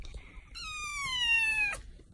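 A small kitten gives one clear, drawn-out high meow that rises then falls near its end, close and fairly quiet, with a faint shorter squeak just before it and near-silence around it.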